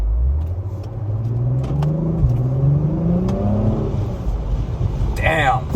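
An Acura TLX sports sedan engine revs and accelerates steadily, a rising drone from inside the cabin, with a brief voice near the end.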